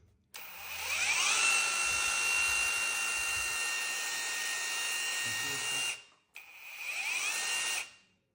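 A rotary hammer drill in hammer-drill mode whines loudly at a steady high pitch for several seconds, stops briefly, then starts again.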